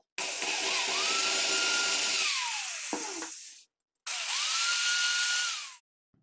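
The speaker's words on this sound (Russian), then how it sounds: "в самый край засверливаем отверстие" A drill bores a hole near the edge of a pipe coupling in two long, steady whining runs that rise in pitch, fairly close, with a short silent gap between them.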